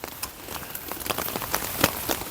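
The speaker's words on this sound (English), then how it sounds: "soak up this lovely, rainy, cold day" Steady rain outdoors on a cold, wet day, with drops spattering on nearby surfaces in a continuous irregular patter and occasional sharper close hits, no voices.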